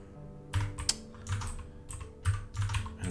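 Clicks from a computer keyboard come in short quick bursts of keystrokes with brief pauses between them, close and fairly quiet.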